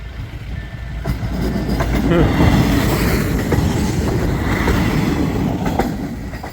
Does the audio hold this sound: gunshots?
no